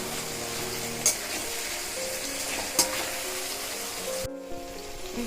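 Vegetables sizzle in a hot pan with a little salt, cooking for a Katla fish lababdar; a steady soft hiss is broken by two sharp utensil clinks, then briefly dips before resuming.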